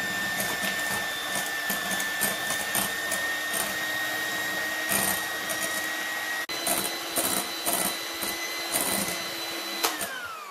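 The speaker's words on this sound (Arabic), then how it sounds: "انا غادي نطلع لي بلون دوف ديالي، غادي نزيد لو سكر" Electric mixer whipping egg whites with regular and icing sugar into a meringue, a steady loud motor whine with a rattling beater texture running continuously, briefly dipping then resuming.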